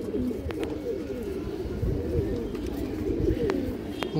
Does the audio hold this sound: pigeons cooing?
yes